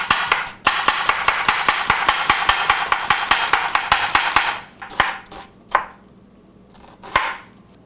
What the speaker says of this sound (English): I just get real thin slices as possible.